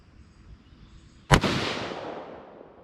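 A single sharp, loud rifle shot from a 6.5 Creedmoor Ruger fitted with a 4-port muzzle brake (APA Fat Bastard Gen 2), booming outdoors with a long, rolling echo that fades over more than a second.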